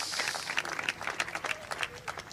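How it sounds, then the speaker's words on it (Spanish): Wedding guests applauding during a civil ceremony, a light, scattered patter of claps at moderate distance, steady and unhurried across the whole moment. "Muy bien, pueden aplaudir."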